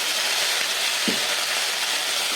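Shredded cabbage sautés in a pan after a sprinkle of water, giving a steady soft sizzle with one brief low stir or clunk midway.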